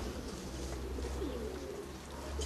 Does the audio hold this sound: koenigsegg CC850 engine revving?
no